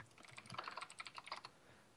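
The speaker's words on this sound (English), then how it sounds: "Oh, Gurthang typing in the Skype chat." Quick, irregular keystrokes on a computer keyboard as someone types in a Skype chat, close and fairly quiet, with no voices.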